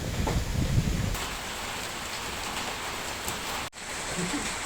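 Steady rain pours during a storm at an outdoor cooking spot where boneless duck is being grilled. The hiss is a loud, even wash that fills the whole stretch, with a few low knocks and a brief voice near the start.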